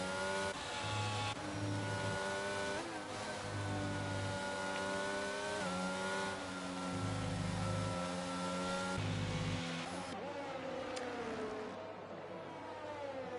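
Race cars in a racing video game on a Japan circuit, several engines revving and shifting through gears in quick succession, loud and close, with a train of cars passing one after another.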